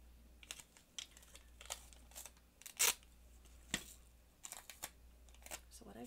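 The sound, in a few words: adhesive tape being pulled and handled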